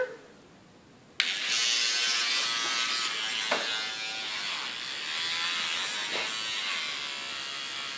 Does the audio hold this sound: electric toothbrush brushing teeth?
yes